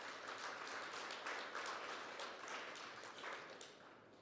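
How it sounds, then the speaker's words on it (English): An audience at a national skills competition conference in Ongwediva applauds steadily for several seconds, a soft, even wash of clapping heard from a distance. "Let us give them a hand of applause."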